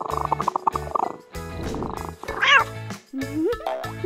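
A cartoon cat in a video game meows repeatedly, loud and close, a series of short sliding cries separated by brief gaps over upbeat game music.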